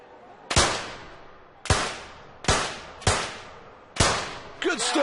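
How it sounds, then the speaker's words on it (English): Five sharp pistol shots ring out one by one at uneven, roughly one-second intervals in the men's 25-metre rapid fire event of a London 2012 Olympics video game, each crack loud and close with a short decaying tail, and faint voices at the end. "the first round of the men's 25-metre rapid fire is ready to go"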